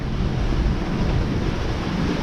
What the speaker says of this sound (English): we finally got some wind